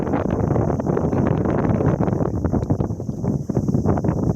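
Strong wind buffets the microphone in loud, gusty roars, with uneven bursts of rumbling noise throughout.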